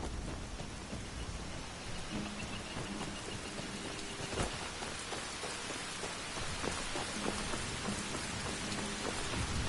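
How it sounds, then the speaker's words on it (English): Heavy rain in the video game Skyrim, a dense steady hiss of downpour pattering on surfaces throughout, with a brief louder crackle midway and faint rumbling underneath. "Heavy rain."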